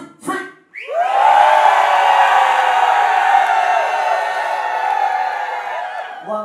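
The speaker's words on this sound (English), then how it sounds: "If the crowd feels that Kazukiyo has won, you make some noise at the count of three." Dance battle crowd at House Dance Forever Japan erupting into loud, sustained cheering, whooping and shouting for several seconds after a short voice, fading slightly at the end.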